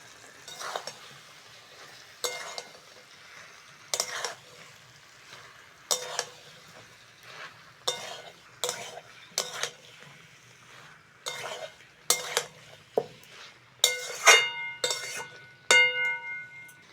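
Fried potatoes being stirred into a spice masala for vegetarian aloo dum, with a steady series of scraping stir strokes and clinks of a spoon against the pot. A faint sizzle runs beneath them, and there is no talk.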